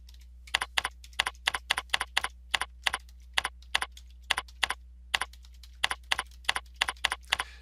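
Keystrokes on a computer keyboard come in quick irregular bursts of crisp clicks, close and clear over a low steady hum, with no voices.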